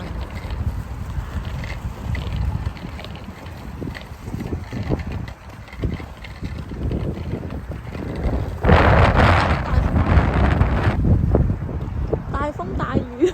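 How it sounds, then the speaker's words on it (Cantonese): Strong wind and rain on a cold, sunless day in Canada roar steadily across the microphone, a loud, continuous buffeting that swells into heavier gusts toward the end. "大風大雨啊！"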